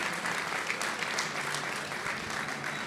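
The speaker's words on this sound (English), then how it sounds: "a big round of applause for them on this." A crowd at a Dubai blockchain challenge event claps for a winning team, a continuous, even roar of applause that stays loud and full throughout.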